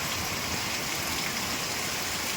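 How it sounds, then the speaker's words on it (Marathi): Heavy monsoon rain pours down outside in a dense, even hiss, steady and continuous throughout with no voices heard. "एकदम आला आहे पाऊस"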